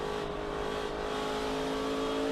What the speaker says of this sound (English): These guys, they juke that throttle a lot more than they did in the old car